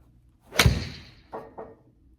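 A golf club strikes a ball during a full-swing practice session, giving one sharp, close, slightly clicky impact followed by two softer, fainter knocks.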